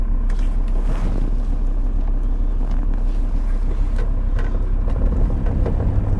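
Car driving home on a dark night, a steady low engine and road rumble heard from inside the cabin, continuous and loud with no voices.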